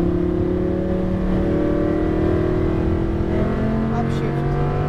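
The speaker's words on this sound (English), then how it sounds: "We're gonna increase gas progressive." A car engine climbs steadily in pitch as the throttle is progressively increased, a loud sustained rising drone with an instructor talking over it.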